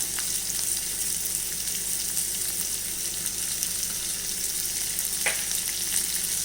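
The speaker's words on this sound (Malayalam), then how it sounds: "നമുക്കിതിലേക്ക് പച്ചമുളക് ഇട്ട് കൊടുക്കാം" Green chillies frying with onion in a pan, a steady close sizzle throughout with a brief stir scrape near the end, no voices.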